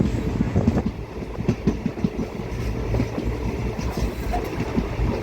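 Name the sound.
Mangalore Junction Express train arriving at station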